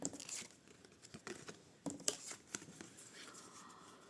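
Light papery slaps and soft flicks come in irregular bursts as cards are set down one by one, close by, with no speech.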